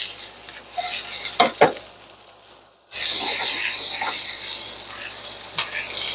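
Onions sautéing in a pan for Jamaican rasta pasta with chicken: a few stirring scrapes and soft clatters, a brief quiet gap, then a steady close sizzle that carries to the end.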